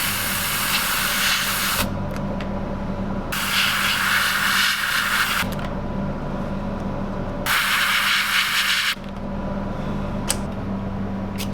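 Isopropyl alcohol is spritzed from a spray bottle onto a handmade trout jerkbait lure in three loud, close hissing bursts of a second or two each, separated by short quieter pauses and no speech.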